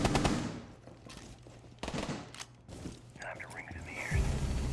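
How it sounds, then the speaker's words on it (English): Gunfire during a competitive tactical shooter match, with sharp bursts of shots scattered through the clip among mechanical clicks, partly under a commentator's voice. "takes a lot of gunfire here and is down to 20 health"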